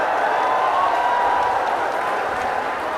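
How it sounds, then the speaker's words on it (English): Crowd noise at a pool match, a steady dense roar of voices, close and continuous throughout, with no single speaker standing out. "This is a pool match, and they're chanting"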